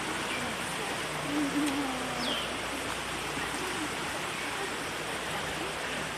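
Steady broadband rush of a river's waterfalls splashing into a pool, constant and fairly loud, with faint voices in the background.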